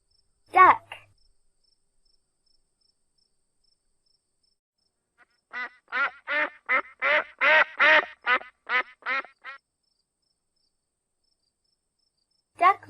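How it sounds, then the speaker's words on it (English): Domestic duck quacking in a rapid run of about a dozen loud, raspy quacks close by, with a brief isolated call before and another at the very end, no voices present. "duck,"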